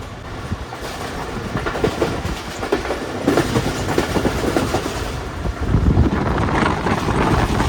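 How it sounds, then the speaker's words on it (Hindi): Allama Iqbal Express train rolling into Harappa station, a steady close rumble of carriages with rhythmic clattering wheels and bursts of wind buffeting the microphone, no voices. "हड़प्पा में एंटर हो चुकी है हमारी ट्रेन"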